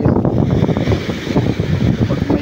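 Rough surf at a beach during a storm, a loud, steady roar of breaking waves mixed with gusts of wind across the microphone.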